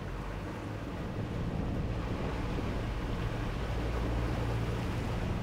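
A performance motor boat under way, its engines droning in a steady low rumble mixed with rushing wind and water noise, loud and close, with no talk.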